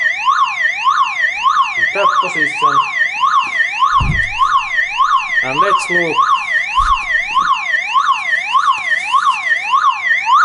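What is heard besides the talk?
Toyota Camry car alarm siren sounding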